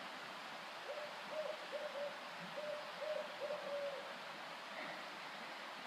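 An owl hoots in a quiet, faint series of soft calls, about six or seven in a row over a steady hiss of background noise.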